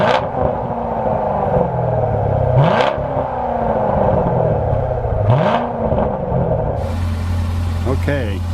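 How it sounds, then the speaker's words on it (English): Chevrolet Corvette C7 exhaust idling in sport mode at a proving ground, a steady low rumbling idle with a couple of short revs, while someone talks over it. "in this case the car is idling in the sport mode"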